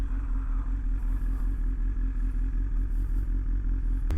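A BMW S1000XR motorcycle being ridden, with a steady, close engine drone and low rumble holding constant throughout, without any talking.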